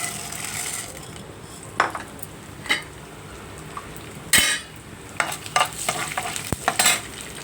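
Urad dal tossed into a hot pan for raw mango pulihora and stirred, steady sizzling with irregular sharp scrapes and metallic clinks of a spoon against the pan, close and moderately loud.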